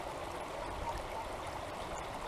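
A park stream flows with a steady, even rush of water, close and constant with no talk.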